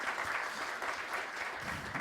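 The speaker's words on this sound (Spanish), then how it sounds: "un fuerte aplauso para Luis." A crowd applauds steadily, a dense wash of clapping from many hands that lasts the whole short stretch.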